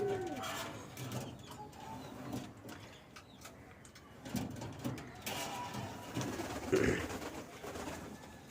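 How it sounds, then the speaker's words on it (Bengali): Racing pigeons in a home loft give soft, low cooing calls at intervals, with occasional rustles and faint background noise, heard fairly quietly and without speech. "এই যে আমার সবচেয়ে ফেভারিট কালার কবুতর।"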